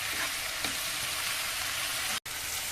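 Ground coconut garam masala stirred into an egg curry in a pan, a steady loud frying hiss with faint stirring scrapes, broken by one abrupt moment of silence near the end.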